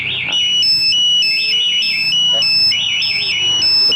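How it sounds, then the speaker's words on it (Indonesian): Aftermarket plug-and-play smartkey alarm on a 2020 Yamaha NMAX scooter sounds loudly and close, a piercing electronic siren alternating warbling and steady beeping tones, with a voice speaking under it. "Ketika dipaksa maka alarm yang di motor akan bunyi dan di remote pun akan bunyi, getar dan gerak."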